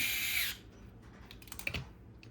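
A power screwdriver whirs briefly, driving 10 mm screws into the skid of an Axial SCX10 Pro RC crawler on a Rock Pirates RC Kraken chassis, followed by light clicks and handling of small parts.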